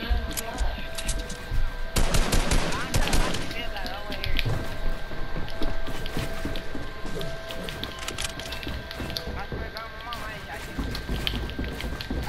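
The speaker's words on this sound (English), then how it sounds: "I shot him." Rapid gunshots in Fortnite during a 1v1 match, dense bursts of fire packed close together with a heavy cluster early on, sounding under continuous game noise and talk.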